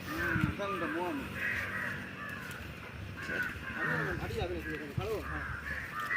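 Several crows caw in repeated bursts outdoors in Jaffna, a mix of close and farther calls heard over steady background noise, with people talking intermittently.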